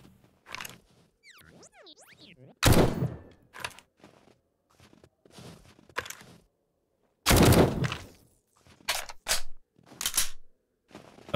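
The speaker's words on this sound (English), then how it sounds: "How come you guys haven't heard this gunfire already?" Unsilenced gunshots in the video game 7 Days to Die ring out one at a time with gaps between them, a couple of them loud and punchy, with quieter clicks and thuds in between.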